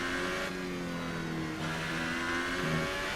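A Formula 1 car in the F1 2018 racing game accelerates hard, its engine climbing in pitch through quick upshifts, a loud continuous whine that drops briefly at each gear change.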